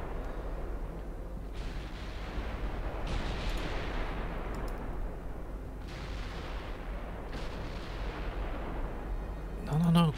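Naval ship gunfire in Ultimate Admiral Dreadnoughts, a series of deep booming salvos spaced a few seconds apart over a steady low rumble, with a distant, moderately quiet character.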